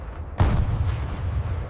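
Dramatized gun firing at an aircraft target, one heavy booming report with a rumbling tail and a fainter second shot shortly after.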